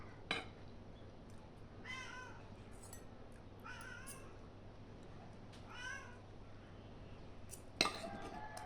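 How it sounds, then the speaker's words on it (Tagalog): A hungry pet cat meows repeatedly at close range, four or five drawn-out cries spaced a couple of seconds apart, with a few clinks and a faint background hum. "Ang ingay na aking pusa."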